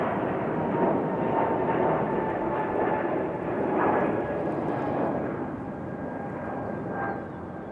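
A JetBlue Airbus A220 takes off from Raleigh-Durham airport, its engines a loud, continuous roar with a steady whine, swelling and fading slightly as it climbs away, heard alone.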